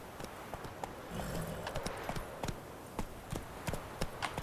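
Geralt's horse Roach gallops in The Witcher 3, the steady clip-clop of hooves beating at a quick, even rhythm, close and continuous over a low ambient bed.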